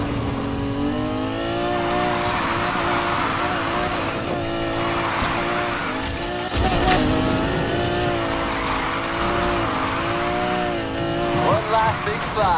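Car engine holding high revs through a long slide in the racing video game Need for Speed Heat, with tire squeal and rising and falling engine pitch, while a voice talks over it.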